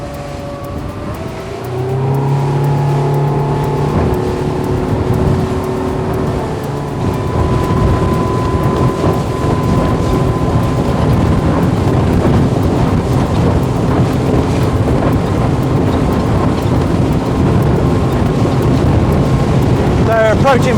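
A Highfield ADV 7 crossover boat with 200HP accelerating through a rough sea: a loud, continuous engine roar that rises in pitch, mixed with heavy wind rush and water noise.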